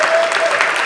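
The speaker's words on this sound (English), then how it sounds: "Can we just give him a round of applause" Audience applause at a Pride Week celebration and flag raising ceremony in Brooklyn, a short burst of steady, fairly loud clapping from a gathered crowd.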